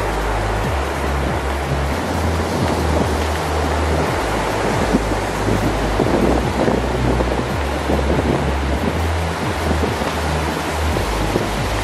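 Ocean surf washes steadily against the shore, a continuous loud roar of breaking waves mixed with gusty wind buffeting the microphone, with no voices.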